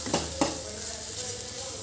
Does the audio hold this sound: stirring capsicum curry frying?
yes